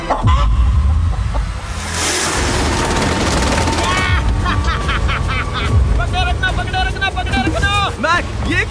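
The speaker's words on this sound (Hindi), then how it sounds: "मैंने मुर्गी पकड़ ली। ओह, ये चिकन तो काफी शांत है।" A hen caught on a remote island during a survival stay gives a run of short, bright clucks in the second half over a busy, noisy background.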